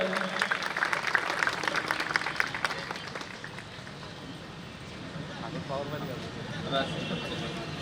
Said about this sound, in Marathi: जसं तिने डान्स केला तशा टाळ्या द्या.